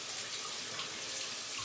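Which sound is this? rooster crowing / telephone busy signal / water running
water running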